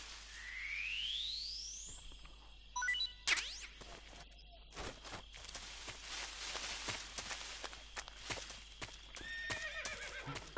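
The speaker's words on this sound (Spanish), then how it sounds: "Caballo." A horse in the video game Metal Gear Solid 3 gives one clear, loud whinny, followed by clip-clopping hooves and a scatter of sharp game sound effects.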